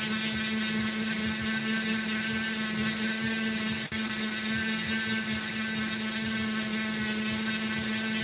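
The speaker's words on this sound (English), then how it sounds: "this orbital motion, this oscillating motion with the bit to gently remove all of the scratches in there" A steady high whine from a rotary tool bit moving in an oscillating motion to polish heavy scratches out of polymer, continuous and close with a faint click midway and no talking.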